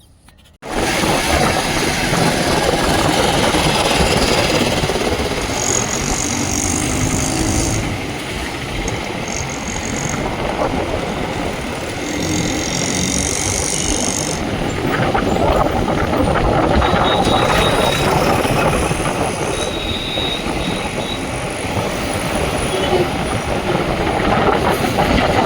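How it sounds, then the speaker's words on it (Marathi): A vehicle engine runs on the road on the way to the gym, a loud, steady rumble with rushing wind and road noise for about twenty-five seconds. "गाडी स्टार्ट केली"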